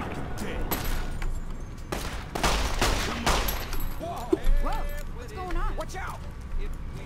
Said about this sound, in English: Let's shoot you in the head a bunch of times.